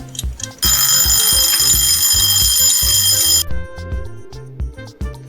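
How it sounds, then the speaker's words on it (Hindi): An alarm clock rings loudly and continuously for about three seconds over a steady children's music backing, then cuts off as the music carries on. "ये समय बताने वाली घड़ी होती है जिसे सेट करके रखा जाता है और सुनिश्चित समय पर ये बज जाता है"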